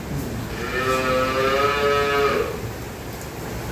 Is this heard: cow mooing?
yes